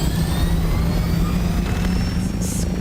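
Aircraft engine in Dune: Awakening, a steady loud low drone with a rising whine as the craft lifts off, a short hiss near the end.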